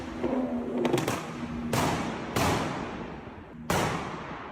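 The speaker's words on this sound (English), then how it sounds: "Backfiring noises that rally cars make" BMW B58 engine backfiring, with a series of sharp, loud cracking pops over a rumbling exhaust drone, the largest bursts spaced about a second apart and a few smaller crackles among them.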